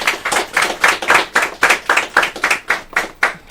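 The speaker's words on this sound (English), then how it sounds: "A round of applause for them, please." An audience at the grand finale of an inter girls secondary school oratory competition claps loudly and close by in quick, rhythmic bursts that pulse evenly throughout, with no talking over it.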